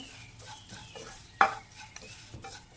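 Vermicelli being stirred into fried onions in a pan, a soft scraping stir with light sizzle throughout and one sharp clack of the spoon near the middle.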